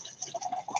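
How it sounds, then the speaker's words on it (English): Arizona green tea with ginseng and honey being poured, a short trickling splash of liquid filling a container, close and fairly quiet with uneven bubbling bursts. "I'm pouring in Arizona's green tea with ginseng and honey."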